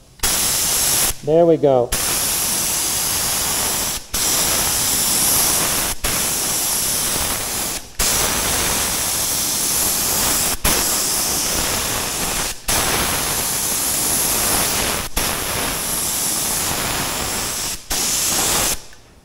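Air spray gun painting an F450 7.3 tool truck, a steady loud hiss in repeated bursts of a couple of seconds each, separated by brief pauses, with a short spoken remark near the start.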